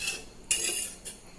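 Metal utensil clinking and scraping against a cooking pot while dinner is prepared, a few quick bright taps and a longer scrape, close and fairly quiet with no talk.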